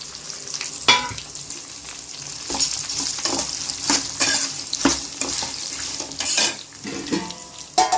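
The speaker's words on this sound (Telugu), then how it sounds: "మినపగుళ్ళు పట్టుపప్పు ఆలింపులో వేసుకుంటే వేగిపోతాయి" Black gram and chana dal frying in hot tempering oil, crackling and sizzling close by with repeated stirring scrapes and occasional sharp pops.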